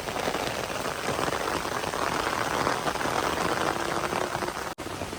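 Steady rain falls on a small home garden, a dense, even patter of drops on leaves and surfaces that holds at a constant level, close and fairly loud, with a brief dropout near the end.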